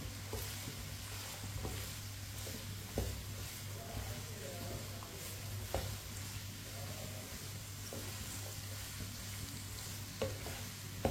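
Chopped bottle gourd stirring and frying in hot oil for lauki sabzi, a steady low sizzle with soft scraping stirs and occasional clinks throughout.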